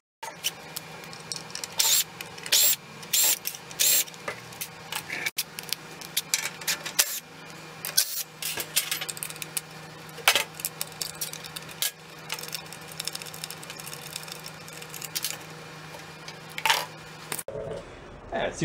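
Bolts being removed from the air cleaner housing of an old roadside generator, a run of irregular close metallic clicks, taps and rattles from tools and loose parts, with short pauses between bursts.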